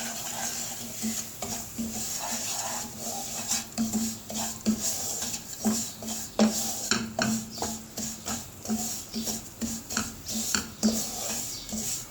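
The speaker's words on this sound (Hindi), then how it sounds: "अब मैं आधा कप सूजी इसमें थोड़ी सी भून लूँगी।" Semolina, half a cup, is roasted in a pan with ground cardamom while making coconut halwa, a spoon repeatedly scraping and clinking against the pan in steady close strokes with faint sizzling underneath.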